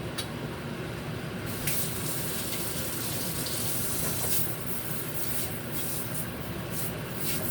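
Hot water pours into a cooking pot for Jamaican rice and peas or steamed fish, a steady close rushing splash that holds for several seconds, with brief bright spattering toward the end.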